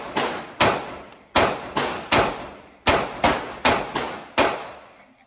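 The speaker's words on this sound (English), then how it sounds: "First 20 shots. No malfunctions." Canik mc9L pistol firing about eleven loud, sharp shots at a steady, slightly uneven pace, each crack ringing out briefly before the next, with no talking.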